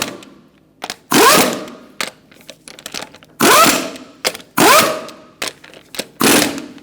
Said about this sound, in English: Using a 21mm socket, we're going to tighten up our lug nuts